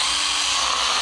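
A Stihl GTA26 mini cordless chainsaw biting into wood, a brief, continuous high-pitched buzzing whine, loud and close.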